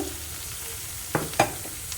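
Sliced onions sauté in a pan for egg roast, a quiet steady sizzle with two quick spatula scrapes near the middle and a faint tap at the end, brief and without voices.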